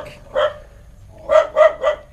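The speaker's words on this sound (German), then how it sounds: "Mein lieber Hund, der Wachhund." A guard dog barks outdoors at a house site, one sharp bark followed after a pause by a quick run of three close, loud barks.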